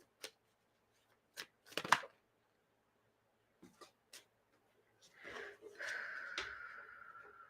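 Tarot cards are shuffled by hand in a quiet room, with a few soft riffling bursts followed by a longer stretch of rustling.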